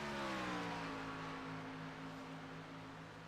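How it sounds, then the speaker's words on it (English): A race car engine drones steadily as the driver works the clutch through corners on a track, a continuous hum with slight shifts in pitch, heard at moderate distance and fairly faint. "You can hear him clutching around those corners now."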